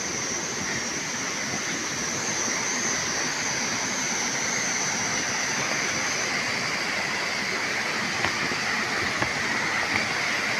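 A village waterfall in Assam roars continuously, a dense unbroken rush of falling water at close range, loud and even throughout with no speech.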